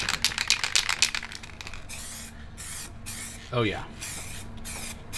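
Montana metallic effect spray paint hissing from an aerosol can in several short close bursts, with a brief voice speaking partway through.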